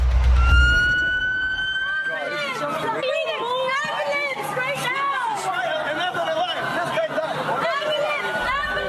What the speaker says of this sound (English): Sirens blaring, an ambulance rushes through this crowded strip